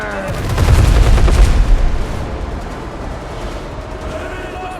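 A broadside of ship cannons fires in the naval combat video game Windrose: a loud burst of overlapping booms rolls over about two seconds, then fades into a lingering rumble.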